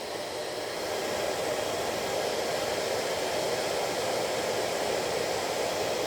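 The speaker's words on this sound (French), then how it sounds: "on va utiliser un sèche-cheveux." A hair dryer blows steadily close by, warming a yogurt pot in a physics demonstration, a loud, even hiss-like whoosh with no speech over it.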